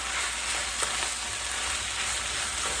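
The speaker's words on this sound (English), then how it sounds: "Give it a stir." A cup of pasta sauce is stirred in a bowl, making a continuous soft, wet scraping and swishing that is close and steady, with no voices.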